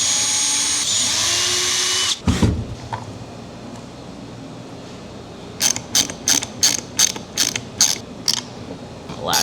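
A drill driving small screws into a wooden puzzle box: a steady whir at first, then a thump and a series of quick rhythmic ratcheting bursts, close and loud.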